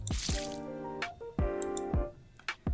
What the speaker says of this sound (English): The glass of water flies out of Modernia's hand and lands on Rappy's head.